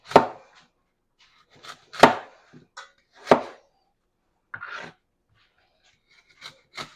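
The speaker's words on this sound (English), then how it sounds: "I'm going to chop these up" Knife chopping apple pieces on a cutting board for slow cooker apple butter, a handful of crisp, close chops spaced irregularly with short scrapes between and silence around them.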